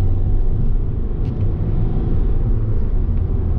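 A car accelerates hard on a French departmental road, heard from inside as a loud, steady low engine rumble and road roar with no speech over it.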